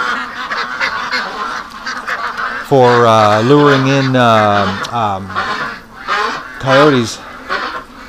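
Muscovy ducks honk and call loudly in a harmonic burst, then again briefly, close by, set out as live bait for luring coyotes, with someone talking over and between the calls.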